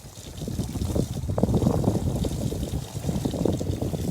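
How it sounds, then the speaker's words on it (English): Alpacas splash and wade in water on a sunny outdoor day, giving a steady wash of sloshing and trickling close by with broad outdoor noise throughout. "It is a beautiful day out here and they are enjoying the water."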